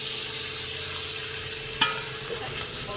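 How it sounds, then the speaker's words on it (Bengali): Chicken sizzles steadily as it fries in oil and cooked-down spice paste in a pan, with one brief clatter of a utensil partway through. "মশলাটা আমি একটু কষে নিয়েছি আর তেল বেরিয়ে এসেছে। এবার আমি চিকেনটা দিয়ে দেবো।"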